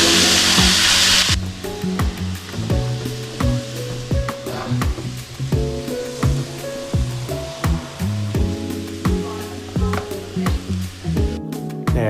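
Bok choy hitting a hot pan alongside prawns, an intense hiss of sizzling at first that settles into steady frying with repeated sharp clanks and scrapes of utensil against the pan, loud and close.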